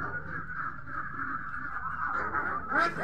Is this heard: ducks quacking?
yes